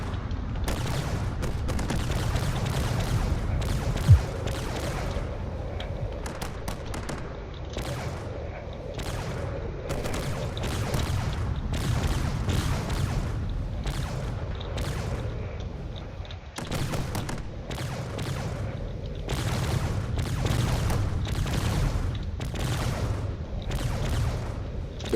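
Cannon fire in a space battle in the Drone Wars video game: a long stream of repeated booming shots in a steady irregular rhythm, loud and continuous over a low rumbling background.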